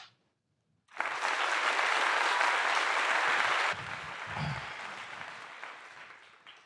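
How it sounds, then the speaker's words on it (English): A loud burst of applause starts suddenly after a short silence, holds strong for about three seconds, then drops to a softer, lingering patter that fades out. "Round of applause for that."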